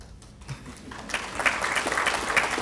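An audience at a school district event breaks into applause, starting as a few scattered claps and swelling into steady clapping from a room full of people.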